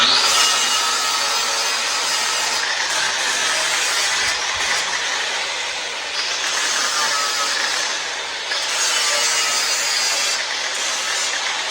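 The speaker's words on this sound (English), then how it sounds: "now I'm gonna clean up all the rust on the edge here that I plan on welding to" Rust being cleaned off a metal edge before welding, a loud continuous abrasive grinding hiss, close and steady with slight dips, no talk.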